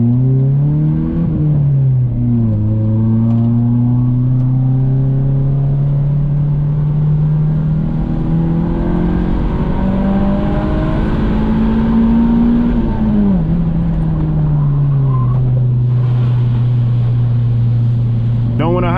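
A Jeep Wagoneer engine hums loudly and steadily while driving, its pitch rising and falling as it revs up and eases off, close and continuous throughout.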